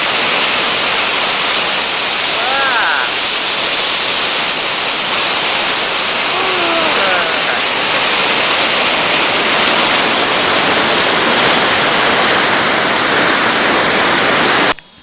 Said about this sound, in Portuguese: Ai, a água vem. Cachoeira do Bandeirante.